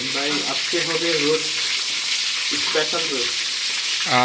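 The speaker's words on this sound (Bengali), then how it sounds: "শাহিন রাধুনি আমাদের সে চিকেন ফ্রাই করছে" Chicken frying in hot oil in a pan in a home kitchen in Rajshahi while pulao is being made: a constant loud crackling sizzle, with voices faintly in the background.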